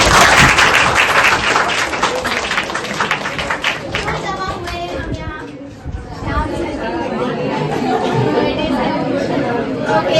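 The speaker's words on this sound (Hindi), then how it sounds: "तालियां उसके लिए।" A crowd claps at a director's birthday celebration. The applause starts loud and dense, then fades into lively chatter and cheering voices.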